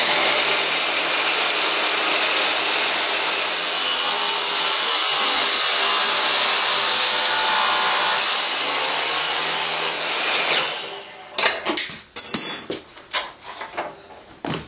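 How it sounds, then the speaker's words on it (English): A miter saw fitted with a cutoff blade grinds through ACME threaded metal rod in a loud, steady, harsh whine lasting about ten seconds, then winds down into a few scattered clanks and rattles. "I'm going to cut this whole rod using a miter saw and a cutoff blade"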